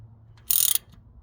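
Ratchet wrench turning a bolt on a Jeep part, one short burst of rapid close clicks lasting about a quarter second.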